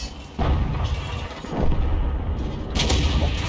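Tank cannon fire in the video game World of Tanks, heavy booming shots that land abruptly with a dense rumbling tail, loud and close, without talk.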